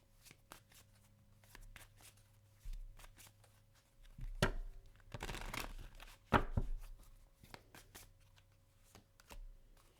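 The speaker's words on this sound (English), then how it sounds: "All right, clarify this card." Tarot cards shuffled by hand in a close, quiet room: sparse soft taps and flicks with a few louder riffling bursts in the middle.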